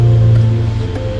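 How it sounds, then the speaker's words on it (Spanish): A river flowing beside a campsite, a steady broadband rush of water with a low hum underneath, close and continuous, no talking. "hemos encontrado un sitio aquí al lado de un río"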